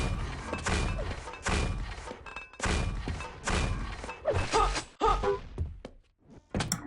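Grenade explosions in the video game Quake Live come as a string of heavy, muffled thuds and bangs in quick succession, loud and close, with brief gaps of quiet between them.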